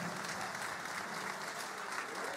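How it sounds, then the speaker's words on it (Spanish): Dense, sustained applause fills a hall at a governor's inauguration ceremony in Huila, a broad even wash of clapping from a large audience throughout. "Ese aplauso que se sienta con buena fuerza"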